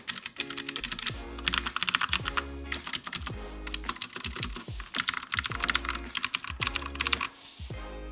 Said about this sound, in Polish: Nadszedł czas na test przełączników.